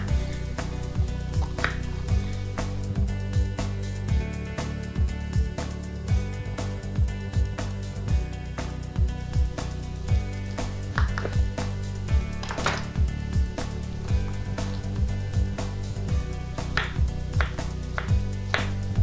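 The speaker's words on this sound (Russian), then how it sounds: "Перец нарезаем кубиками." A knife dices bell pepper on a cutting board for pizza, a steady run of crisp, evenly spaced taps over a low background hum, with no talking.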